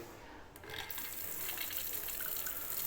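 Water gushes from a newly installed flow-through tap into a sink, a steady close hiss that starts up strongly and keeps running evenly.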